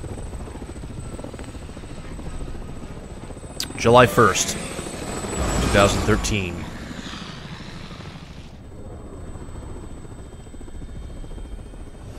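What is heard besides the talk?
helicopter in video game Resident Evil 6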